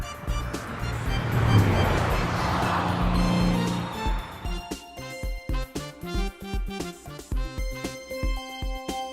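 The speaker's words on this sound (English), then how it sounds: "post van" Roaring engine of a post van with a broad, whooshing drive-by swell in the first half, followed by a steady, rhythmic pulsing pattern that stays fairly loud and close, with no voices.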